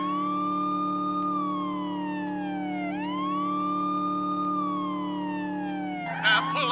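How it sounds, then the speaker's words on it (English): A police car siren in the video game True Crime: New York City wails in slow rising and falling sweeps over a steady low engine hum, ending in a short burst of noise. "Next, let's hear your siren."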